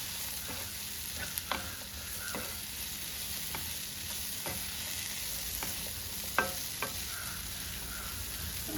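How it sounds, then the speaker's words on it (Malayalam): Jackfruit seeds being stirred into masala in a pan, a soft continuous sizzle with scattered scraping strokes of the spoon, quiet and close, with no talk. "ചക്കക്കുരു നമ്മുടെ ഈ മസാലയൊക്കെ ആയിട്ട് നന്നായിട്ടൊന്ന് യോജിക്കണം"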